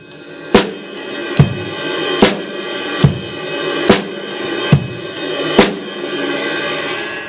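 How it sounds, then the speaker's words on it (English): A basic rock beat with kick and snare hits recurring about every eight-tenths of a second under a continuous shimmering ride cymbal wash, full and close. "What the ride is going to do is just going to give us more of a full washy sound"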